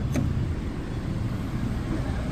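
A 2013 Hyundai i20 engine running, heard as a steady low rumble throughout with a brief faint click near the start, no speech over it.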